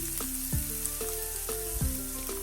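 Chopped onion, green onion and garlic sautéing in hot oil, a steady close sizzle with regular scraping stirs of a utensil in the pan.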